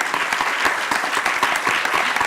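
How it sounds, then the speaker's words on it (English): Loud, dense applause from a large crowd at a violin arangetram recital, many hands clapping steadily and close throughout. "A round of applause"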